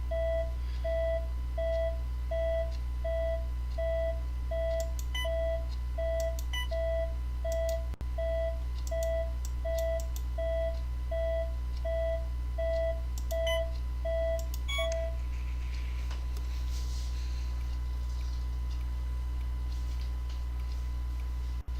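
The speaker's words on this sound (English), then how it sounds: "The beeping machine." A machine in the video game That Dragon, Cancer beeps in a steady, regular rhythm, about twice per second, over a constant low hum, then stops, leaving only the hum.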